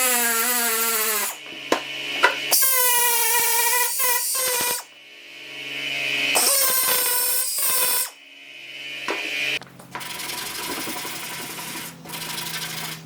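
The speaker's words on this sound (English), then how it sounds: "I'll just go and get my roll lock with some 80 grit like disc on it, and I'll just grind that back" An 80-grit Roloc disc grinds back rusty metal in the boot of an XB coupe: several loud, close bursts of high whining grind with shifting pitch, separated by brief pauses, no talk.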